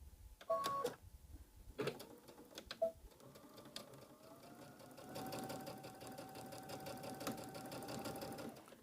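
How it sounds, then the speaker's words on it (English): A sewing machine stitches a row of a floral quilt wallhanging, with a few short bursts and pauses at first, then a steady, even mechanical whir that runs on continuously. "And then I'm just going to sew that row."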